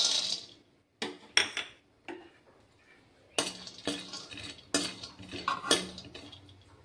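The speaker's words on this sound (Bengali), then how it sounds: "প্রথমে আমি শুকনো খোলায় বাদামগুলি ভেজে নেব।" Peanuts dry roasting in a kadai, heard as sparse clinks and scraping rattles of nuts against the metal pan in irregular bursts, fairly quiet between strokes.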